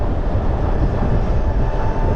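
Zero DSR/X electric motorcycle under open throttle, a loud, steady rushing drone of motor whine mixed with heavy wind buffeting, continuous and close throughout.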